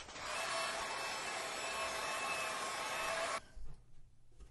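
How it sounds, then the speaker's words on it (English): A hair dryer blows steadily with a loud, even whoosh for about three seconds, drying watercolor paint, then cuts off, leaving faint low bumps and quiet. "I'm going to hit it with a dryer."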